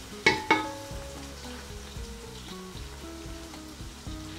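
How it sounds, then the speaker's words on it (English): Onions frying in a pan for chicken curry give a steady, close sizzle throughout, with two sharp clanks of stirring near the start. "give it a little mix and then let it carry on frying in there"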